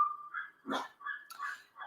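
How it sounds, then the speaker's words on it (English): A Chihuahua barks in short, high-pitched bursts, several yaps spaced across a couple of seconds, moderately close. "You can probably hear the Chihuahua barking."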